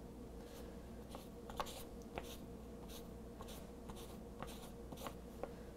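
A pen scratches across waterproof journal paper in quick, quiet strokes, with small taps and scratches spread evenly over several seconds, heard close up.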